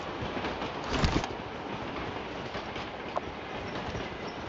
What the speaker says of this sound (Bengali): ট্রেন গাড়ি আসছে।